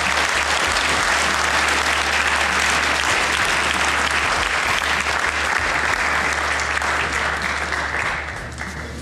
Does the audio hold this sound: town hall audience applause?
yes